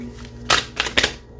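A tarot deck shuffled by hand, three quick papery riffling bursts close to the mic over a faint low hum, with quiet gaps between them.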